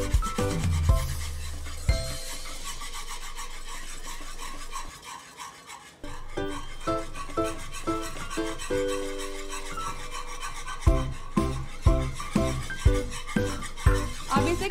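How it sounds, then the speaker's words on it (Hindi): Stirring a mango dessert mixture in a pan while it cooks, with repeated scraping and rubbing strokes in a steady rhythm, close and clear, pausing briefly midway. "कंटिन्यूसली चलाते रहेंगे और थोड़ा थिक होने तक पकाना है।"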